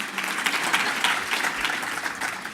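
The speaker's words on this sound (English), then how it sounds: "I think I owe a round of applause for that." Audience applause at a research and development panel discussion, a dense, steady round of clapping from a seated crowd, sustained at even loudness throughout.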